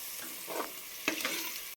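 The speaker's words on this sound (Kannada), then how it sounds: "ನಮಗೆ ಒಂದು 3/4 ಟೇಬಲ್ ಸ್ಪೂನಷ್ಟು ಖಾರದ ಪುಡಿ, ಅಚ್ಚ ಖಾರದ ಪುಡಿ ಹಾಕ್ಕೊಂಡು ಈ ಥರ ಫ್ರೈ ಮಾಡೋಣ" Chili powder frying in a pan for mushroom pulao, a steady sizzle with stirring scrapes swelling midway and a sharper clink around one second, close and fairly quiet.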